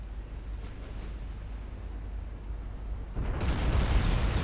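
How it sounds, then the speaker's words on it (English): Naval gunfire in Ultimate Admiral: Dreadnoughts during the Battle of Gibraltar, a deep continuous rumble with a louder, harsher burst of blast noise swelling in near the end, no talk. "And now you can actually start firing."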